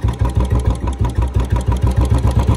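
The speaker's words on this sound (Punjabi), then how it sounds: "ਆਹ ਦੇਖ ਸਕਦੇ ਤੁਸੀਂ ਏਦਾਂ ਆਰ ਪੀ ਐਮ ਸਲੋਅ ਹੋ ਜਾਂਦੀ ਹੈ ਬੋਲਟ ਦੀ" A Royal Enfield Bullet BS4 motorcycle idles at very slow RPM, its single-cylinder engine thumping in a loud, even, close rhythm of about five beats per second with no talking.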